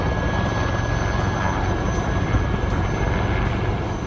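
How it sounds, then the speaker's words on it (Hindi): Military helicopters in a desert army exercise produce a dense, continuous roar with a steady whine on top, loud and unbroken throughout, with no speech. "आसमान में गरजते हेलीकॉप्टर"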